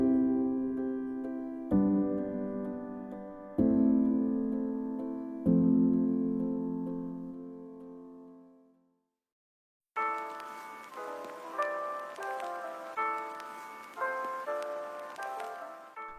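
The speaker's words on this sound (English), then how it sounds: "Today I will be going to use the simplest and most common chord progression" Synthesized chords from LMMS software, a simple common progression: four sustained harmonic chords struck about every two seconds, each decaying, then a pause and a brighter, busier synth passage with repeated chord hits, alone without talk.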